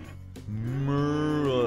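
Cows lowing in the farming simulator Cattle & Crops: a single drawn-out, rising moo follows a brief knock and holds clear and close until the end.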